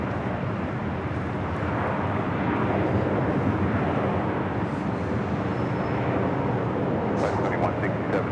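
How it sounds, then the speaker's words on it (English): United Express SkyWest Embraer E175LR regional jet arriving at Los Angeles International Airport, a continuous loud engine roar holding steady across the whole stretch with no voices over it. "Next arrival is United Express SkyWest flight 5380 coming from San Luis Obispo"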